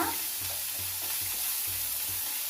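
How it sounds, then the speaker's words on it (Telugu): Curry leaves and coriander fry in a pan for sago upma, a continuous crackling sizzle with regular rhythmic stirring scrapes underneath. "కరివేపాకు, కొత్తిమీర వేస్తున్నానండి. ఇవన్నీ కొంచెం క్రిస్పీగా అయితే వేగిన తర్వాత"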